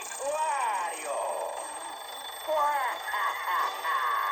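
A WarioWare alarm clock on a Nintendo DS video game rings insistently, repeated warbling electronic trills in bursts with brief lulls, loud and close, with no speech over it.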